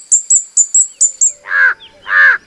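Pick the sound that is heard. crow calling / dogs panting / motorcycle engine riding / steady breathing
crow calling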